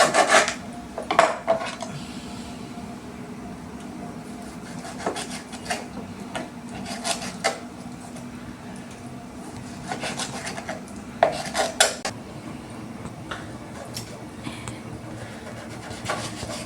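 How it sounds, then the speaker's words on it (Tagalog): A knife cutting beef into pieces for marinating, repeated rasping strokes against a board that come in scattered bursts over a steady low background, close by and with no talk. "hihiwa-hiwain ko lang siya para i-marinate"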